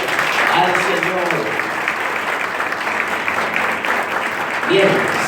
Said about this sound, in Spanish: Vamos a dar un fuerte aplauso al Señor.